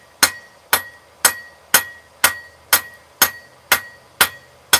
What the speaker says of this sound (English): I'm going to take my hammer, I'm going to tilt it this way and use this side of the face as a fuller